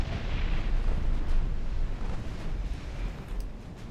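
Torpedo launches from destroyers during a naval battle in Ultimate Admiral Dreadnoughts, rendered as a dense, sustained low rumble of blasts and explosive roar, loud and continuous with no talk.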